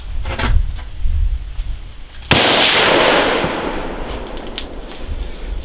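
A Lancer L5 rifle magazine loaded with rounds is dropped from shoulder height onto the ground during a durability test. It lands with one loud, sharp crash and a short, noisy clatter that fades out.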